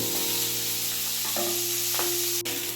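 Oil sizzles and spits steadily as broken pieces of fish fry in a little oil in a pan, with a low hum beneath and a couple of soft clinks of utensils.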